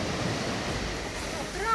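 Ocean waves wash onto a beach in Portugal, a steady broadband surge and hiss swelling slightly at the end, with wind buffeting the microphone.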